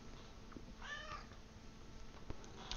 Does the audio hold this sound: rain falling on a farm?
no